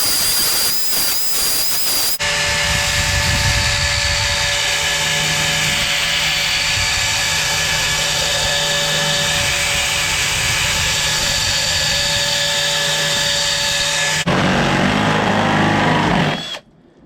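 A power tool grinding to sharpen a step drill bit, a loud sustained high-pitched whine with steady tonal hum for about twelve seconds, bracketed by brief rougher grinding at start and end.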